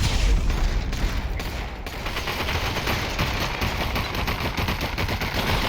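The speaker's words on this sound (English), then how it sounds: "Fritz getting lasered by that M60, taken very low" M60 machine gun in the VR shooter Population: ONE, firing in continuous dense bursts with booming impacts, loud and close throughout the clip.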